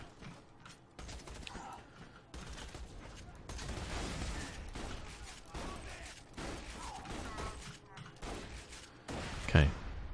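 Shotgun blasts in the shooter Borderlands 2, a few heavy booms spread over busy game noise with a soft voice talking over them, one loud blast near the end.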